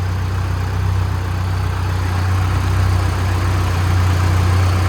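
A 1998 Nissan 240SX S13 with a swapped SR20DET engine idles with a steady, deep, droning rumble, close and continuous without revving.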